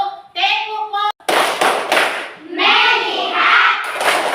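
A class of schoolchildren in a classroom lesson claps in a rhythmic burst of fast, loud hand claps, with children's voices chanting and talking before and during the clapping.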